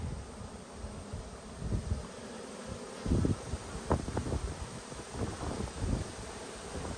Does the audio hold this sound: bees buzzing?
yes